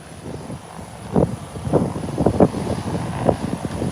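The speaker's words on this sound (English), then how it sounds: "It's a smaller craft coming in" A small aircraft coming in to land makes a faint, broad engine drone under wind buffeting, with a few scattered bursts rising and falling while it nears.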